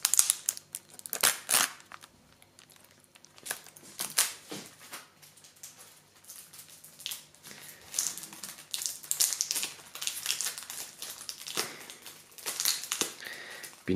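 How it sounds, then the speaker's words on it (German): Plastic shrink wrap is torn and peeled off a sealed music album, giving close, loud crinkling and crackling bursts that come and go irregularly throughout, with no speech. "Wir müssen mal kurz die Plastikfolie entfernen."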